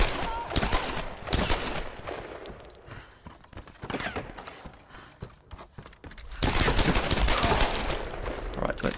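Pistol fire in the Tomb Raider video game, a burst of sharp shots that comes in clusters, then a louder, denser volley toward the end, with busy game noise in between.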